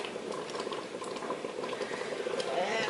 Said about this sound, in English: So our mixture is finally starting to boil.